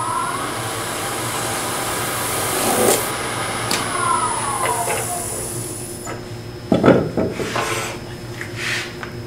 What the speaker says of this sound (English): now I want to trim on the inside and just the edge of the skew chisel